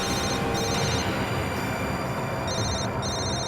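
A telephone rings in a tense indoor scene, its electronic trilling bell sounding in two bursts over a dense, noisy background, with no talking during the ring.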